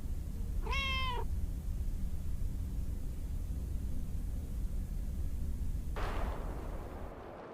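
A single short cat meow from the video game Lake, rising and falling over a steady low rumble of background noise, followed later by a brief hiss-like swell.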